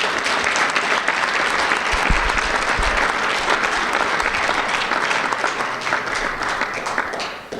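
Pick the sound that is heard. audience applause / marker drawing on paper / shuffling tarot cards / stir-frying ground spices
audience applause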